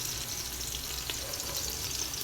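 Garlic and onion frying in a pan for native chicken tinola, a dense continuous sizzle with faint stirring, close and even, no talking.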